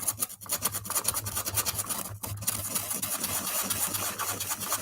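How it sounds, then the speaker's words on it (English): Sandpaper scrubbing over a craft piece in quick back-and-forth strokes, a close, raspy rhythmic rubbing with a steady low motor hum underneath. "But hitting the sandpaper in there,"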